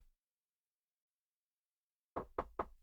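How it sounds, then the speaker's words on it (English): Three sharp knocks on a bedroom door, evenly spaced and close, arriving after a long stretch of silence. "knocking as he comes into her room"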